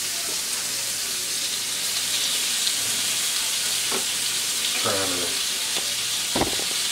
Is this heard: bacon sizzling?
yes